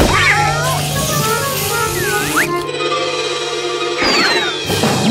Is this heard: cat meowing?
yes